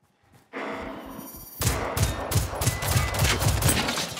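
Gunfire striking a sandbag in the video game Generation Zero, a short burst opening before a louder stretch of rapid, repeated shots with thumping low impacts that rattles on steadily to the end.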